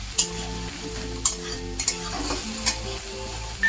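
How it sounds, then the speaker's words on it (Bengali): Steady sizzling of onion paste frying in a pan, with a few sharp scrapes and clinks of a utensil stirring at irregular intervals, no voices. "দিয়ে পেঁয়াজটাকে ভালো করে ভেজে নেব যাতে পেঁয়াজের কাঁচা গন্ধটা চলে যায়।"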